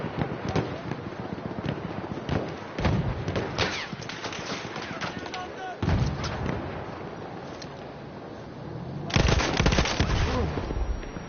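In the Battlefield 1 video game, bursts of rapid gunfire crackle and a mine explosion booms out, with sharp louder blasts standing above the steady battle noise and faint voices in the background.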